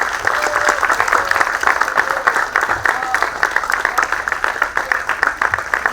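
Sustained applause from an audience at a book fair event in Shillong, a dense, steady wash of many hands clapping for the full length with faint murmuring mixed in.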